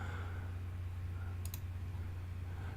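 A single short mouse click on a Cancel button, brief and sharp, heard once midway against a steady low electrical hum with no voices.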